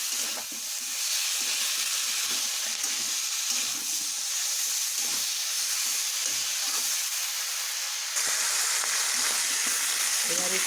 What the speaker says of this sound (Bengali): একটু সবজিটা ভাজা ভাজা হবে।